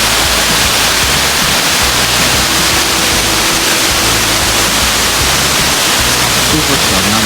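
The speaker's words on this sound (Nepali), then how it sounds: "अहिले चाहिँ हामी अक्टोपस झरनामा छौँ।" Octopus waterfall in Manang, Nepal, a loud, constant roar of rushing water filling the whole scene, with faint voices barely audible beneath the torrent.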